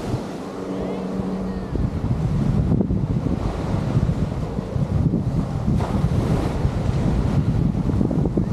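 Ocean surf and strong wind at Kaimana Beach in Waikiki, with steady wave wash and gusts buffeting the microphone, a continuous roar throughout.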